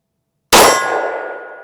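A single loud, sharp report from a Glock 19 pistol firing 90 grain Extreme Defender +P ammunition over a chronograph, ringing out and slowly decaying after a moment of silence.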